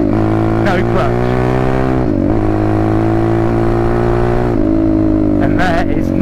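A pit bike engine revs loud and close, holding a steady buzzing drone with brief dips and rises as gears shift without the clutch, each change a quick break in the note before it climbs again.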